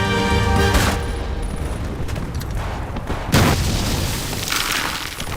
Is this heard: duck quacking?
no